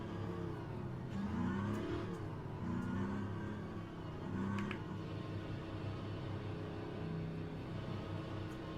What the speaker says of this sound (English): This car also has that weird like humming. It's not really a burble from the engine, it has that weird hum